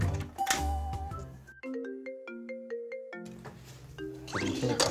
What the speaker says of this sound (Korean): 엄마한테 전화 왔어.